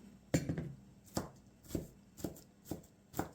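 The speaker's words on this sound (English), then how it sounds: "now you chop all your vegetables. Got the celery mostly chopped here." Celery chopped with a knife on a cutting board for macaroni salad, five or six sharp, evenly spaced knocks, close and fairly loud, with no talking.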